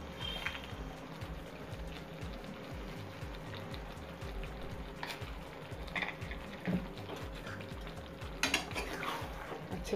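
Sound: stirring butter chicken masala in a pan

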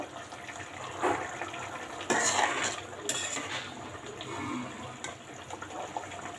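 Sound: stirring and sautéing bitter gourd in a pan

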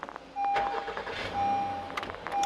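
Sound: Honda Odyssey 3500cc gasoline engine starting

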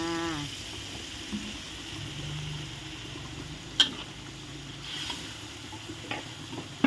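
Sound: boxed coconut milk poured into the pot and stirred

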